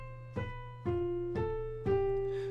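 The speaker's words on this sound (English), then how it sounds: "Now the retrograde sounds like this." A short row of single pitched notes played one after another in retrograde order, four separate sustained tones each starting with a clear attack, close and clean with no voices.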